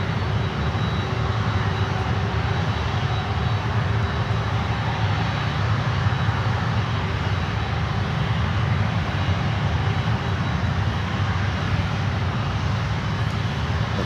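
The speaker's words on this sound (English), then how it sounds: "There we have United with a 737." United Airlines Boeing 737 arriving on runway 12, a steady broadband engine roar with a thin high whine holding at constant loudness throughout, no voices over it.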